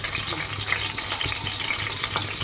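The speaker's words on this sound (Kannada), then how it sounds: "ಮೆಣಸಿನ್ಕಾಯಿ ಸ್ವಲ್ಪ ಎಣ್ಣೆದೊಳಗೆ ಫ್ರೈ ಆದವು" Green chillies frying in a little oil in a pan, producing a steady, close sizzling hiss with faint stirring scrapes and no clear speech.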